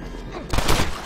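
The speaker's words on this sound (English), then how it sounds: "I did shoot him" A single gunshot in the video game Red Dead Redemption, a sharp burst with a short rough tail, moderately loud, with no talk over it.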